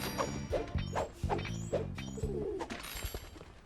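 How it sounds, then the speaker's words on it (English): Pigeons coo repeatedly in the Sly Cooper: Thieves in Time video game, a series of low, rhythmic burbling calls repeating about every half second over a busy game backdrop with faint clatter. "A lot of pigeons."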